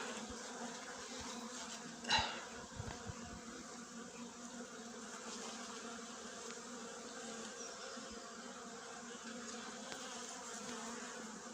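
Honey bees buzz steadily inside an overwintered hive during a February colony check, a dense continuous close-up drone with a brief knock early on.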